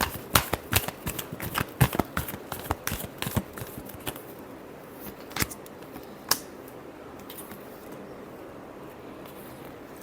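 A tarot deck is shuffled in quick, crisp bursts of riffling card snaps. The bursts are dense at first, then thin out to a few isolated flicks, close and fairly quiet, with no talk.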